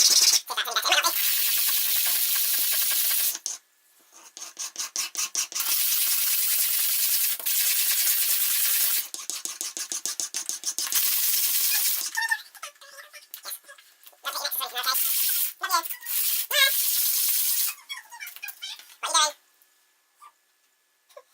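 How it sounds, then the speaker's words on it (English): Plastic bottle tops being filed down by hand, a loud close rasping scrape repeated in long strokes, broken by short pauses and quicker choppy strokes near the end. "now I need to file down because there's still a bit of a lip"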